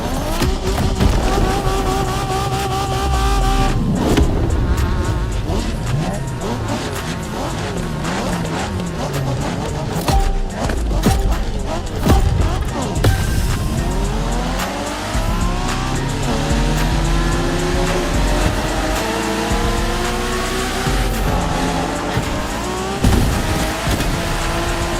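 Race cars in The Crew Motorfest video game, set in Japanese street racing, roar continuously with engines revving up and down through gears and tires squealing in long skids, loud and dense throughout with no talk.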